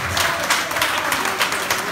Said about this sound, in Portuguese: Então uma grandiosa salva de palmas para o André Guerreiro, o nosso algarvio